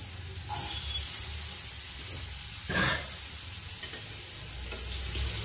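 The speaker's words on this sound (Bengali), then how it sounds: "জিরেটা ভাজা হয়ে গেল, এবার আমি এই আলুটা দিলাম" Potato pieces dropped into hot oil with fried cumin seeds for a Bengali khuder boua bhat, giving a steady close sizzle and frying hiss with faint stirring scrapes throughout.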